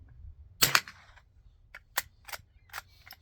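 A Sears J.C. Higgins Model 43DL .22 rifle fires one sharp, fairly quiet shot, followed by several lighter mechanical clicks and clacks spaced about a second apart.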